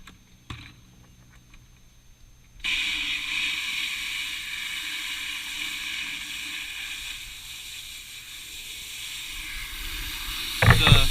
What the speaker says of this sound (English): So I'm going to fill up my bucket with water